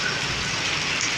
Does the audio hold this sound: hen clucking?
no